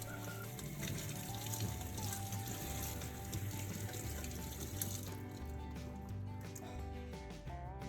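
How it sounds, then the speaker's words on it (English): Strawberries are rinsed under cold running tap water, a continuous faint splashing stream over the fruit, dropping off partway through to quieter dribbles. "gently rinse the strawberries under cold running water to remove any dirt or residue"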